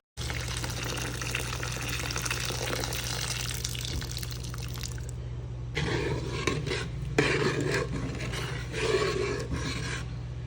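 Water poured into a pot of sautéing papaitan soup base, a steady loud rushing pour with sizzling hiss, shifting to bubbling, splashing liquid partway through, alone with no talk.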